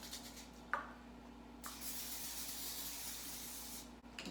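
An extra virgin olive oil cooking spray can hisses in a long, steady burst lasting a couple of seconds, preceded by a short click and a brief initial spritz, close up.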